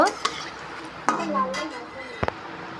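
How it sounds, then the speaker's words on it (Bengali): Fish pieces frying in a pan, a faint low sizzle under sharp metal spatula clinks and scrapes at a few scattered moments. "এগুলো আমি লাল লাল করে ভেজে নেব।"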